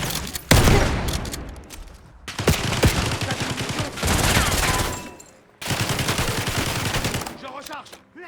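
Shotgun and other gunfire in the video game Call of Duty Black Ops 6, loud close blasts in dense bursts with heavy clattering layered over a continuous battle din.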